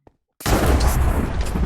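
Lightning strike summoned by command in a Minecraft-style video game: a sudden loud crack after a brief silence, followed by a sustained, rumbling thunder roar.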